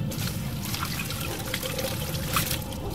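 Water rushes steadily through a Jeep Cherokee heater core during a back flush, a continuous, even trickling gush close by with no voices.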